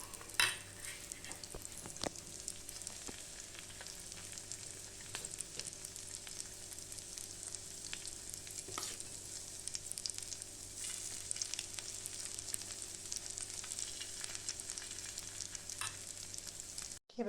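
Egg and bread pakoras with onion, tomato, coriander and green chilli frying in hot oil, a steady close crackling sizzle throughout with occasional light utensil clicks and no talking.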